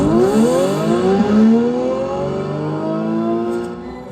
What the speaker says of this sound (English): it could just pump out the sound of you doing a burnout as you go past